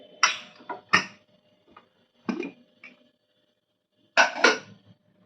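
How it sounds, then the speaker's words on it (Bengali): A pressure cooker lid being opened after cooking mutton masala, giving several short metallic clanks and scrapes in separate bursts, close by and moderately loud, with quiet gaps between. "ঢাকাটা আমি খুলে নিচ্ছি কুকারের"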